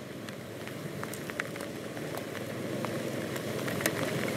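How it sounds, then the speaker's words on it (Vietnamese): Heavy thunderstorm rain pouring down in Saigon, a dense continuous hiss and patter with scattered sharper drops and splashes, steady and building slightly louder toward the end, no voices. "Mưa thì lớn nhưng mà lướt có vẻ nhanh."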